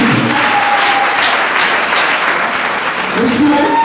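Guests at a military civil wedding ceremony applaud loudly and continuously, close by, with a voice briefly audible through the clapping.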